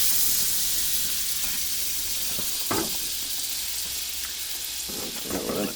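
A ham and cheese toastie fries in very hot butter in a pan while cooking in a motorhome, giving a steady low sizzle with occasional louder crackles and spits, no talking.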